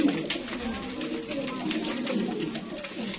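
Sialkoti Sheikhan pigeons cooing in a loft, soft overlapping rolling coos close by, steady and low with light background clatter.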